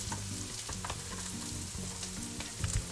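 Ground beef frying in a pan with a spoonful of flour stirred in, a steady close sizzle broken by scraping stir strokes, no voices over it.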